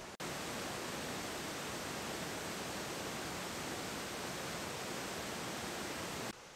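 Steady broadband rush of a waterfall seen from a track overlooking it in Welsh-style waterfall country, continuous and fairly even for several seconds before cutting off, with no talking.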